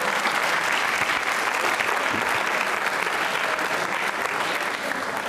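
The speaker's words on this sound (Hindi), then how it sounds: "तालियां बजाओ जोरदार विधि के लिए।" Sustained applause from a school quiz-show audience for a contestant, dense and steady clapping filling the room at close range for about five seconds, easing slightly near the end.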